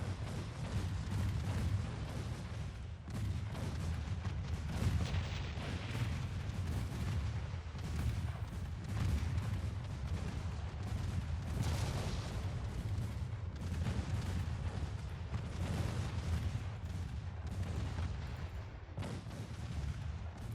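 Naval guns boom continuously in an Ultimate Admiral Dreadnoughts battle, heavy artillery salvos and deep rumbling blasts overlapping steadily throughout with no pauses.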